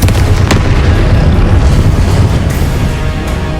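The Confringo fire-blast spell from Hogwarts Legacy lands as a loud, sustained booming explosion, a dense roar that fills the whole moment with a few sharper cracks inside it.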